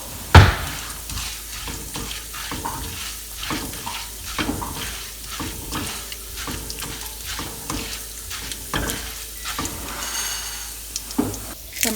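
Frying in a pan for coconut rice until golden, a steady crackling sizzle under repeated stirring scrapes at a fairly even rhythm, close and moderately loud, with no talking.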